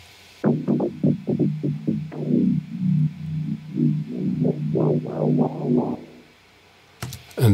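A soloed synth track from a house-style production, made on a Virus B synthesizer, plays a punchy, distorted bass-heavy riff of rhythmic plucked stabs and swells, close and dry, ending in a brief pause.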